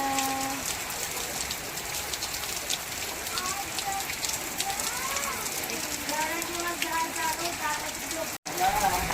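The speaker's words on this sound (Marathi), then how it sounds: "पाऊस आला" Steady rain patters and hisses on surfaces, a dense continuous wash with scattered drip ticks and faint voices in the background.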